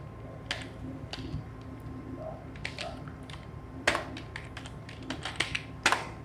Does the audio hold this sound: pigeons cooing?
no